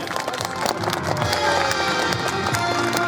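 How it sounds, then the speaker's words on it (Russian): A concert audience gives a vocal ensemble dense, sustained applause that fills the space evenly throughout. "Бурные аплодисменты!"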